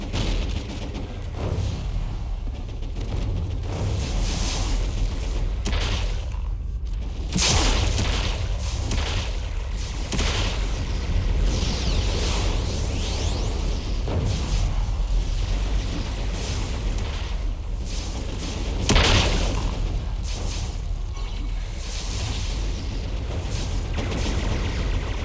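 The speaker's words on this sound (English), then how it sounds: "A lot of explosions over here." Explosions and combat blasts in the video game City of Heroes during a Task Force fight against Nemesis, a continuous rumbling barrage with repeated booms and sharper bursts around the middle, steady and fairly loud throughout.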